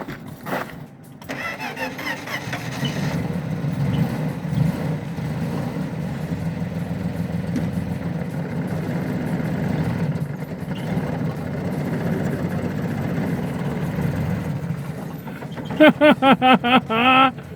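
A 1966 Dodge Dart with an exhaust leak idles in a steady, rough low rumble for most of the stretch, ending in a few sharp, loud pulses near the end.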